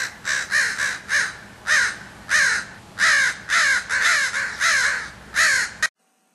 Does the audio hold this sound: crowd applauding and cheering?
no